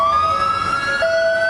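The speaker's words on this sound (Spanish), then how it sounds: "Así se escucharon las sirenas de advertencia en Hawái" Tsunami warning sirens in Hawaii wail loudly and steadily, a sustained rising electronic tone that shifts pitch near the end, heard alone without voices.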